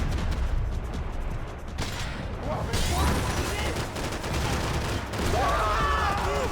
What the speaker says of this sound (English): I should shoot that barrel and cause it to blow up.